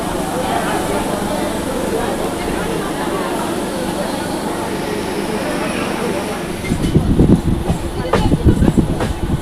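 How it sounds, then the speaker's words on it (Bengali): Panskura to Digha EMU train crossing from one line to another: a steady rhythmic rolling rumble with faint repeating clatter, then a person starts talking over the softer running noise. "আমাদের ট্রেন ফার্স্ট লাইন থেকে সেকেন্ড লাইনে যাচ্ছে"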